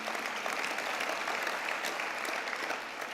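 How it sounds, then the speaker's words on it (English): Warm applause from a gala dinner audience honoring a man named Grant, a continuous wash of clapping at moderate distance lasting a few seconds before easing off. "so a quick round of applause for Grant"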